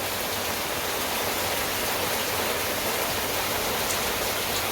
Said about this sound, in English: watching the rain come down.